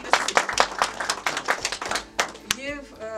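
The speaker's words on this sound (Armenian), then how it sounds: "ես ուզում եմ մենք ծափահարենք" An audience claps for Roman Balayan's 80th birthday, a short burst of scattered, close hand claps followed by a voice speaking near the end.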